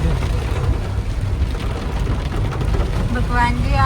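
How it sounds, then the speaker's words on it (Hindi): Steady, dense rain roars continuously with a low rumbling undertone, like a downpour heard from inside a moving vehicle. "यहाँ पे ना बहुत तेज बारिश हो रही है"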